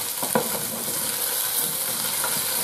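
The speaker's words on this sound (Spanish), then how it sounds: "Y seguimos dando unas vueltecitas." Spinach and potatoes frying in a little oil in a pot, stirred with a few quick scraping turns over a constant close sizzle.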